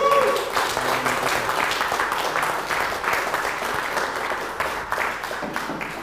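Studio audience at a late-night cooking show bursts into sustained applause, a dense wash of clapping that starts strong and gradually thins over several seconds, with no talk over it.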